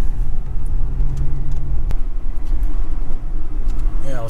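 A vehicle towing a trailer pulls in to park on flat ground at a tractor show, its engine a steady low rumble close by throughout, with a brief sharp knock partway through.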